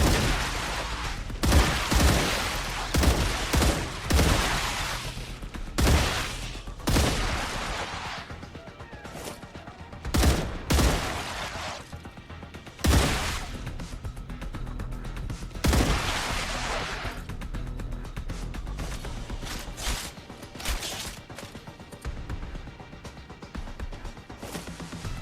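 Gunfire from the sci-fi video game StarRupture: loud, dense bursts of automatic shots and heavy impacts come in repeated volleys over a constant background, with no voice over them.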